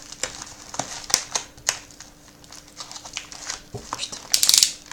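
Paper envelope being torn open and handled: scattered sharp rips and crinkles with short pauses, close by, then a burst of crumpling near the end, with a person speaking in French at times.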